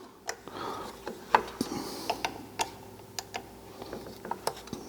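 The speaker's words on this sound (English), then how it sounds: "And then I'm going to loosen these screws." Screws being loosened on a chainsaw magneto during assembly: a quiet run of small ratcheting clicks and sharp metallic ticks spaced irregularly over low mechanical rubbing, close and fairly faint.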